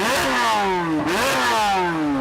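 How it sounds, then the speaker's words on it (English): A Corvette Z06 flat-plane crank V8 revving hard, with loud, close, sharp pitch sweeps that fall, climb again and fall as the throttle blips, and no voices. "It makes the American car sound more like a Ferrari than a Corvette."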